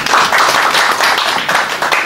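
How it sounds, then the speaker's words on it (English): Audience at an African Traditional Medicine Day celebration in Uganda clapping for a newly assented law, a dense close burst of applause with a faint voice in the mix. "We need to clap for it."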